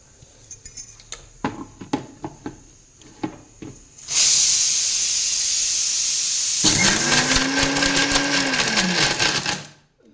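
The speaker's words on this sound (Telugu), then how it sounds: "ఇలా మిక్సీ ఆడించాలి." An electric mixer grinder whirs loudly and steadily as it grinds coconut, lentils, cinnamon and cloves for a stuffed capsicum filling, preceded by clinking and tapping as ingredients are added.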